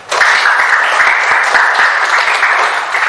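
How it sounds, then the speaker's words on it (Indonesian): Loud, close applause from a group starts abruptly and continues steadily, a thick wash of clapping hands with a few sharper claps standing out. "Kasih tepuk tangan."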